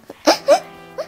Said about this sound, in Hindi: पूरे घर में तुम्हारी रोने की आवाज आने लग रही है